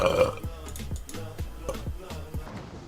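A woman lets out a series of short, rhythmic burps close to the mic, about a dozen quick gulping pulses in a row.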